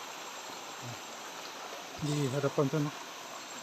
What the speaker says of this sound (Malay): Ada terdapat satu air terjun yang menarik juga